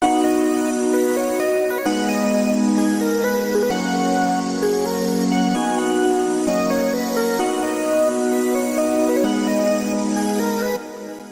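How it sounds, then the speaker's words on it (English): A vocal chop synth lead made in Serum, built from chopped vocal snippets, plays a stepping melody over steady chords, with no one speaking. "how to make amazing vocal chop leads in Serum"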